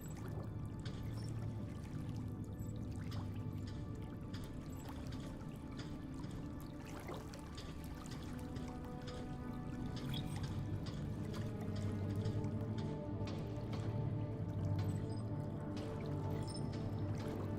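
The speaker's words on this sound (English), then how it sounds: "I will say that water sound is so inaccurate" Water drips and pours continuously in a flooded interior of the space game Deliver Us The Moon, a steady liquid trickle with scattered drips layered over a low ambient hum.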